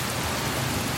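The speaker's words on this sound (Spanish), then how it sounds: "arreció y los truenos empezaron a hacer temblar la tierra" Heavy rain from a thunderstorm pours down in a steady, even hiss, with no distinct thunderclap standing out.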